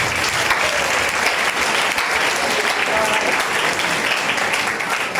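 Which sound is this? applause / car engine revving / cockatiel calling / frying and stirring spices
applause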